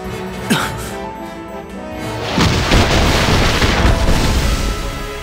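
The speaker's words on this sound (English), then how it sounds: "A bombardment from Styria." In a Final Fantasy Brave Exvius cutscene, an artillery bombardment lands with a sharp boom followed by a loud, sustained rumbling roar of blasts and debris that fills the scene.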